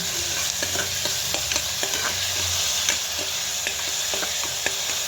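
Fresh ginger, garlic and coriander paste fries in hot oil, sizzling loudly and steadily while a spoon stirs and scrapes the pan at a regular pace.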